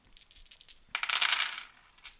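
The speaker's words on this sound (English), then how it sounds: "Now we roll 5 dice" Five dice rolled for a tabletop board game, a short clatter of light taps followed by a bright burst of rattling as they tumble and settle on a hard surface, close and alone without talk.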